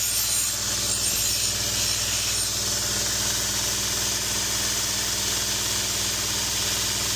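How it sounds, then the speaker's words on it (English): A 240 grit Scotch-Brite wheel satin polishes a Kamikoto single-bevel knife blade, producing a steady hissing rub over a low motor hum, close and continuous throughout. "I will satin polish that entire flat. This is a 240 grit Scotch-Brite wheel."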